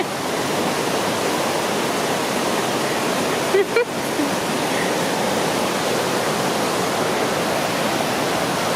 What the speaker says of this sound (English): We're super close to the waterfall now. We got the water running.